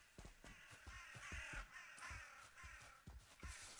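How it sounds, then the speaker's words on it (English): Crows caw repeatedly in Valheim, a rhythmic string of harsh calls over a steady ambient bed, fairly close and prominent throughout. "Ooh, those crows. I like the sound effects."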